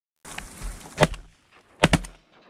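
Shotgun blasts during an opening-day duck hunt in California, heard as a sharp single shot followed by a quick double shot a moment later, loud and close in open air.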